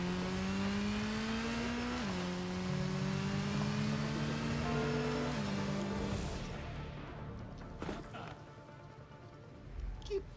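A motorcycle engine in the Gotham Knights video game revs and climbs through gear shifts with a loud, continuous drone, then fades as it drops away near the end.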